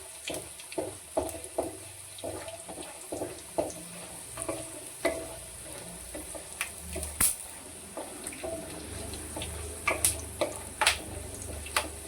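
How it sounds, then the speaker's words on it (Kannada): Peanuts fry in a pan with a constant low sizzle, broken by repeated scraping and rattling stirs at an uneven pace, close up and without speech. "ಶೇಂಗಾ ಎಷ್ಟು ಫ್ರೈ ಆಗುತ್ತೋ ಅಷ್ಟು ಚೆನ್ನಾಗಿರುತ್ತೆ"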